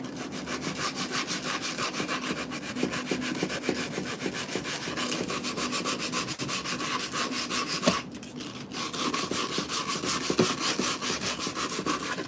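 Wood is sanded smooth before varnishing, a dense, rhythmic scratchy rubbing that runs continuously at close range with one short pause midway.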